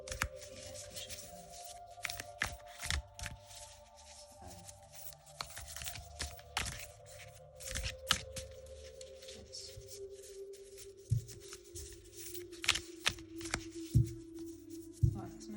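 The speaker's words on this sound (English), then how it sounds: "that's an overhand shuffle" Wild Unknown Alchemy tarot cards get an overhand shuffle, close papery slaps and riffling rubs in irregular bursts, with a faint steady hum underneath and no speech.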